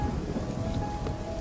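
Steady, dense rain hisses across the whole moment, with a low rumbling undertone like distant thunder beneath it.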